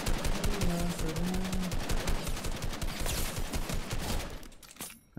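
Video game gunfire, a loud, dense stream of rapid automatic shots firing without pause for about five seconds, then cutting off abruptly.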